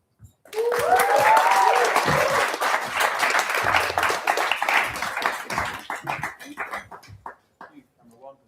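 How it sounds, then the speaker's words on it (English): An audience at a music event gives a round of applause, a full burst of clapping that rises quickly, holds steady, then thins into scattered claps and fades out, with a few voices and whoops mixed in. "Please give another round of applause."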